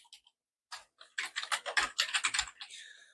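Brief clicks, then a quick burst of keystrokes on a computer keyboard, close and fairly soft, with no talking.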